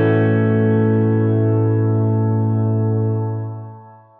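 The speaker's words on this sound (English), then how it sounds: "a shimmer is basically a reverb with some kind of modulation" A sustained, shimmering guitar pad from a Headrush MX5 with shimmer reverb and dynamic delay, a bright, choir-like reverb wash, holding steady and then fading out smoothly at the end.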